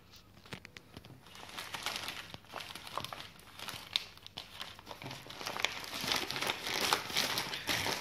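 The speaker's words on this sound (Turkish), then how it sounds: "Kargoyu beraber açacağız." Hands crinkle and pull open the plastic bag of a cargo parcel holding a coin collection set, producing close, continuous crackling and rustling with sharp snaps that grow busier toward the end.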